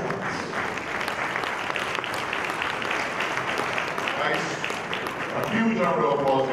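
Steady audience applause fills a business knowledge summit hall after a speech, dense clapping throughout with a few voices rising near the end.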